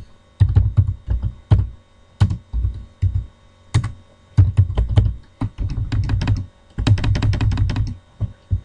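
Computer keyboard keys pressed in short clusters of shortcut combinations, crisp close clicks and thunks arriving in bursts with brief pauses, ending in a dense run of rapid keystrokes; no talking.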